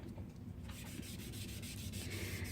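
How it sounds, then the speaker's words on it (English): Blue chalk is rubbed into paper with a clean cotton ball, making a soft, steady scrubbing and brushing sound, quiet and close, with repeated strokes and no talk. "And rub your chalk in."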